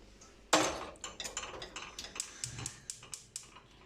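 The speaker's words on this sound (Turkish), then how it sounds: "Çay olurken de bulaşıklarımı yerleştireyim." Dishes clink and clatter as they are put away in a home kitchen, opening with one sharp knock followed by a rhythmic series of light ceramic and cutlery taps, close and fairly quiet.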